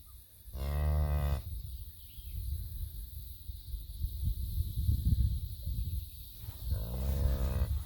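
A milk cow on a farm lets out a loud, drawn-out moo, then a quieter stretch of rustling and low noise, and a second moo near the end.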